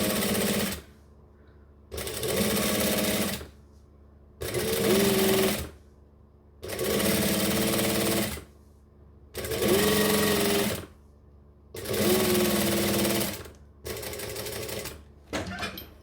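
A sewing machine stitches across a panel in repeated bursts of a second or so, each a loud, fast mechanical whir separated by short silent pauses, heard up close with no talking over it.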